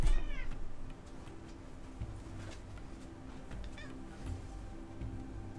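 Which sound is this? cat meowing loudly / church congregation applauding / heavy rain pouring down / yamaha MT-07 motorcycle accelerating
cat meowing loudly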